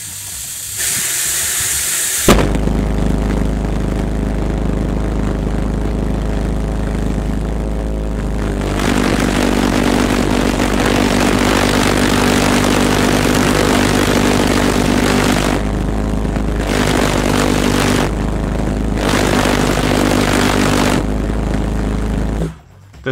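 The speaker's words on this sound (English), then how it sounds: "The distinct noise it made led to it being nicknamed the Buzz Bomb" A V-1 pulse jet engine, the Buzz Bomb, gives a loud, continuous rough buzzing drone with a low pulsing rumble. It cuts out briefly several times before resuming, then stops abruptly at the end.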